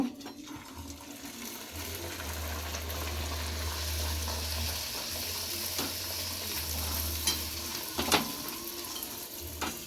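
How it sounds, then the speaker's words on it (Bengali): Spinach kachori sizzling and crackling in hot oil, a steady frying hiss with occasional pops and a low hum underneath. "এইভাবে আমি প্রত্যেকটা বেলে ভেজে নেব"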